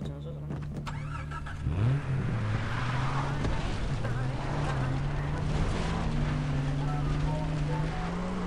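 A car engine in the video game Far Cry 3 hums steadily and revs up and down, rising in pitch as it accelerates, with people talking over it throughout.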